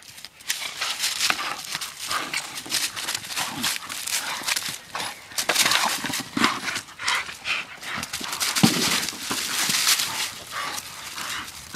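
Pit bull dogs tussle over a tire outdoors, with scuffling, thuds, panting and gravel scrapes in irregular bursts close by, and no voices heard.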